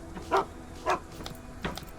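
Dogs in a video game bark three times in quick succession, distinct mid-distance woofs with short gaps between them over faint ambience.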